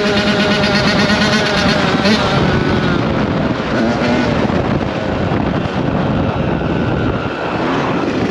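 A 2022 Yamaha YZ80 dirt bike being ridden, its engine a steady, loud, close drone with rising and falling revs throughout, plus some wind buffeting on the microphone.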